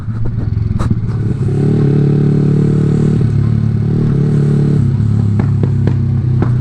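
Yamaha R15 V3 sport motorcycle engine running loud and steady close by, with a throttle roll-off and brief sharp clatters over the droning exhaust.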